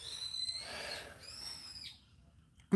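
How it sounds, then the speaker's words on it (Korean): A bird, likely an owl, gives a couple of high, thin wavering calls, faint and somewhat distant against quiet background, ending with a brief knock. "새소리입니다. 비명소리 아니에요."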